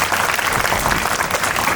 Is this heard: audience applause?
yes